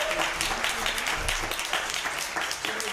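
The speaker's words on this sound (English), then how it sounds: "can we give our panelists a huge round of applause?" An audience at a community meeting applauds the panelists, producing a steady wash of many hands clapping at a moderate distance.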